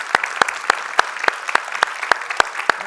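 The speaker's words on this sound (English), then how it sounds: "Well, we can clap again." Applause at the Ledger Op3n keynote event, heard as a steady, evenly spaced run of sharp claps about three or four per second, fairly close and clear, with no talking over it.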